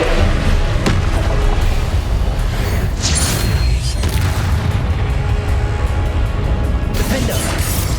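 A Confringo fire spell explodes in the Hogwarts Legacy video game, heard as a loud booming blast with crashing debris inside a constant dense game soundscape, followed by a second burst of impact noise.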